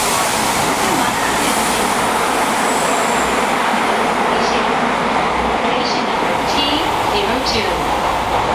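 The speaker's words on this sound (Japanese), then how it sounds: "この電車は渦政天神川行きです。" A Kyoto subway train runs at Rokujizo Station, its steady loud rumble and rail noise filling the whole stretch, with faint squeals of the wheels and a recorded onboard announcement playing over it.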